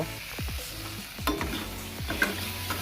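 A utensil scrapes and stirs fish frying in oil with ginger, garlic and chilli, several sharp scraping strokes over a steady crackling sizzle, close and fairly quiet, no voices.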